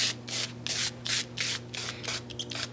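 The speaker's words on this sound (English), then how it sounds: "I'm just spraying it liberally" Repeated short bursts of hissing foaming degreaser spray onto a heat seal hand wrap machine, about eight quick squirts in a steady rhythm, close by over a low steady hum.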